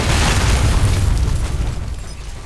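An explosion in the video game Alpha Protocol roars as a loud, deep rumbling blast that fills the clip and slowly thins out toward the end.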